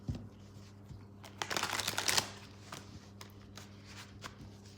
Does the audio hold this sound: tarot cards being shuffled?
yes